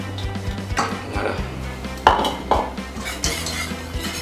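A utensil stirs crème pâtissière in a pan on the stove, scraping and clinking steadily against the metal with repeated knocks, close and fairly loud, with no talk.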